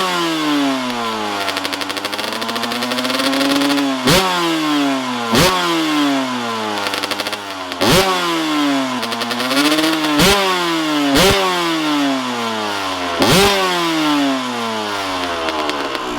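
2022 Yamaha YZ125 and Kawasaki KX125 two-stroke dirt bike engines revving up close: loud, buzzy blips that rise and fall in pitch, repeated many times with sharp snaps between throttle pulls, and no talking.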